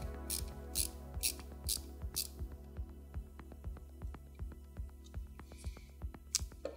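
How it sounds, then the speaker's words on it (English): Screws being tightened down on a new AMD CPU cooler in a cross pattern, giving a steady run of close, sharp ratcheting clicks under a constant low hum. "let's tighten it down in a cross pattern"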